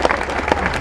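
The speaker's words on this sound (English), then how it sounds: "I want you to welcome and cheer and shout a performer from the Free Fringe" A comedy-gig audience at Edinburgh's Russian Consulate claps and cheers as a comedian walks on, a brief dense burst of applause filling the room.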